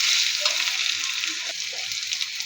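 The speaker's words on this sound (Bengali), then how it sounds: "আদা রসুনটা আমি ভেজে নিব।" Ginger-garlic paste fries in a pan for fish bhuna, a steady close sizzle holding even throughout, with a brief stir around the middle and no talk over it.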